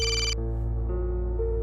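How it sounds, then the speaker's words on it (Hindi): A telephone rings with a steady electronic tone that stays loud and close through the whole short moment, with no voices. "बलदेव जी का फोन"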